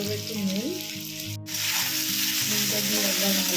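Chopped onion sizzles steadily in a hot pan over medium-high heat while a fish curry is being cooked, a loud, continuous frying hiss with a brief break partway through, and no talking.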